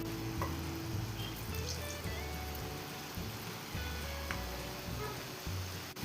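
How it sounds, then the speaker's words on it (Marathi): A second batch of homemade snacks frying in hot oil, a steady dense crackling sizzle close by with no talking. "तर दुसरी बॅच अशीच तळून घेऊया"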